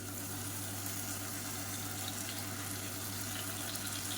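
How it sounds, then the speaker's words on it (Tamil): Water from a rinsed mixer jar pours steadily into a cooking pan of vegetarian parotta salna, a continuous even splashing rush with no talking. "மிக்சியை அலசிட்டு அந்த தண்ணியை வந்து கொஞ்சமாக சேர்த்துக்கலாம்"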